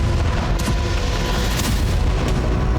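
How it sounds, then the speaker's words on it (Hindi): Heavy FAB-500 bomb blasts striking positions in Donetsk, heard as a continuous loud low rumble with a few sharper bursts around the one-, two- and two-and-a-half-second marks and no voices. "FAB 500 बम से डोनेस्क में यूक्रेन ठिकानों को नष्ट किया जा रहा है।"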